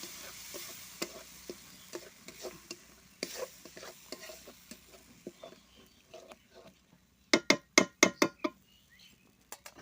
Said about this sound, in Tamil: நல்லா கிளறி விட்டாச்சு